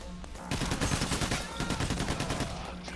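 Rapid pistol gunfire in the Payday heist video game, a dense burst of sharp shots fired in quick succession for a few seconds, loud and close with no talking.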